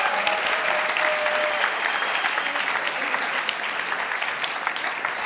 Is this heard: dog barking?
no